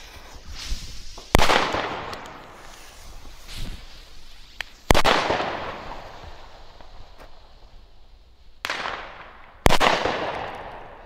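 Four sharp bangs from Pyrotrade Vipper 3 firecrackers go off one after another, each loud and close, with crackling echoes and sputtering in between.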